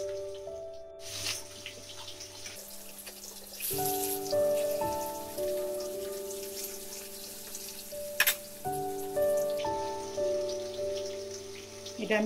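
Rohu fish pieces fry in hot oil over medium heat, a faint sizzling hiss running beneath intermittent kitchen clatter and tonal beeps, with a sharp clink partway through.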